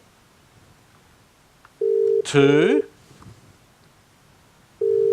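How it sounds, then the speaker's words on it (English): A phone call from a TV show to a prize winner produces a steady ringback tone that buzzes twice, a few seconds apart, while a host's voice counts loudly between the rings. "if they pick up the phone within 5 rings"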